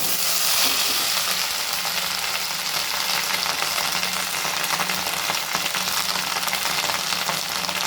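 Drumstick (moringa) leaves fry in a pan for a home lunch dish, a loud, steady, close sizzle and crackle running throughout with faint stirring scrapes and no voices.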